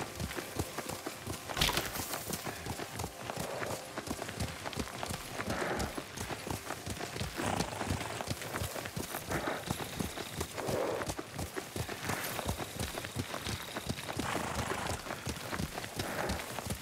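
In the Ghost of Tsushima game, a ridden horse's hooves beat in a steady, continuous clip-clop across the whole stretch over a soft ambient backdrop, with faint game sounds but no talk.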